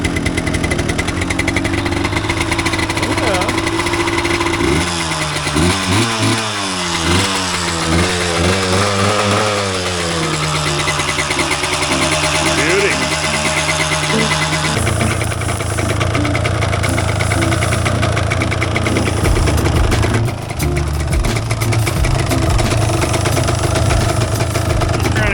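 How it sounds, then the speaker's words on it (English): A 1988 Yamaha DT200 two-stroke enduro motorcycle idles loud and close after a cold winter start, its raspy buzzing engine blipping up and down in revs before settling into a steady, uneven idle. "See if she's ready without the choke."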